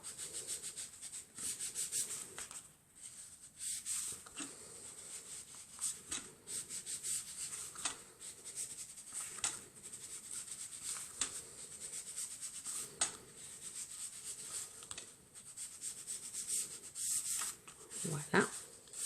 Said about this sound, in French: avec de l'encre marron, on va venir ancrer tous les bords